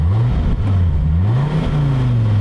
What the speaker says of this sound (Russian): Как будто сначала заработал пускач, и только затем пробудился мотор.